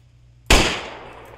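A single sharp gunshot in the DayZ video game, a loud sudden crack that decays with a short echoing tail.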